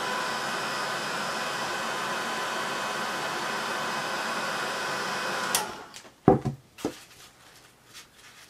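Heat tool blowing hot air to dry distress paint, a steady loud whooshing drone that cuts off after about five and a half seconds, followed by a few close knocks and handling clatters.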